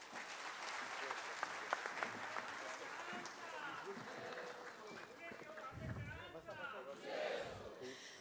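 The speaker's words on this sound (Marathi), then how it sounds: "जोरदार टाळ्या आणि खरंच खूप खूप आभार" Loud, sustained applause from an audience at a centenary celebration of the Bahishkrut Hitakarini Sabha, following a speech by a guest speaker, with crowd noise and scattered voices mixed in throughout.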